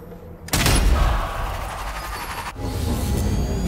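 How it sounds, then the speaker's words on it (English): Heavy gunfire rattles through a battle in the video game Strange Brigade, a dense fusillade that starts abruptly and continues loud and continuous with booming low end, briefly dropping before resuming. "What wonderful shooting!"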